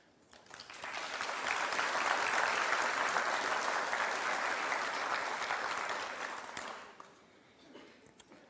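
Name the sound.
applause for a speaker at a history talk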